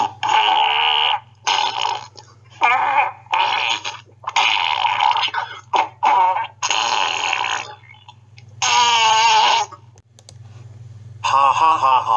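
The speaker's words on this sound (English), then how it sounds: "Have fun farting." Fart sounds edited into a prank piece come as a string of long, loud, buzzing blasts with short gaps between them, close and prominent over a low steady hum.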